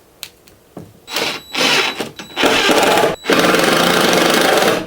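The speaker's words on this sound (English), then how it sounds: "I'm going to drill holes in my plywood" A power drill whines in loud bursts, starting and stopping a few times before running steadily as it bores holes through plywood.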